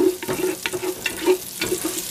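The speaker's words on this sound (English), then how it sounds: "start off by adding some extra virgin olive oil, just to coat the bottom of the pan, so that way we can brown up the garlic and the onion" Onion frying in extra virgin olive oil in a pan, a close, loud, steady sizzle with soft scraping stirs recurring at regular intervals.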